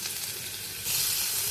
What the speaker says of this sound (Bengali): রসুনটা দিয়ে, আর লঙ্কাটা দিয়ে দেবো আগে।